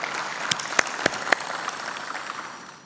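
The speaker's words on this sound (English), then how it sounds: "Can I have another round of applause?" A conference audience applauding in a short, loose burst of clapping with a few sharp individual claps standing out, tapering off after a couple of seconds.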